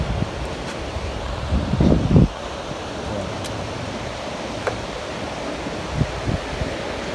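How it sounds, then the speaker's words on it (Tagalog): A strong river flows nearby with a steady broadband rush, mixed with wind buffeting the microphone and a few louder low thumps and bursts partway through. "Malakas yung tubig."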